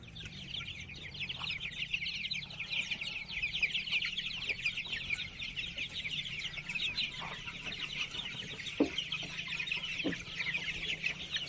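Tiger chickens kept in a room and on a rooftop cluck and chatter steadily at moderate distance, with scattered sharper calls and knocks over a low background hum and no talking.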